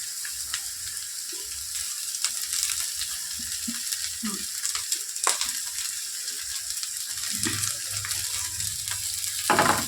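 Carrots and peas frying in a pan for vegetable chops, a steady close sizzle with occasional stirring scrapes and clinks, no voices.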